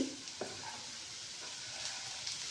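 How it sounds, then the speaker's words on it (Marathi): Onions sauté in a pan until turning pink for a raw turmeric curry, heard as a quiet, even sizzle with a couple of light spatula scrapes near the start, no voices. "तर हे छान असं गुलाबी होईपर्यंत थोडंसं परतायचं आहे"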